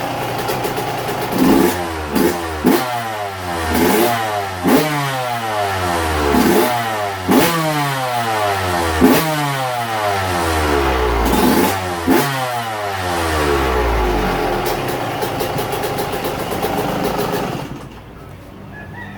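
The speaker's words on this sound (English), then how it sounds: "I'm going to let her warm up a little bit before I blip the throttle a few times." A warmed-up Yamaha YZ125 two-stroke dirt bike engine gets a series of sharp throttle blips, each rev climbing and falling back to idle in a steady repeated rhythm, loud and close, before settling near the end.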